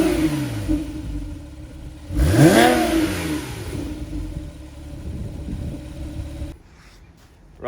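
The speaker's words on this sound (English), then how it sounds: "Porsche's genuine Porsche Sports exhaust system, which sounds like this." A Porsche 997 Generation 2 fitted with the genuine Porsche Sports exhaust gives one strong rev that climbs and falls back, then idles with a deep, steady rumble, loud and near, before the sound drops away.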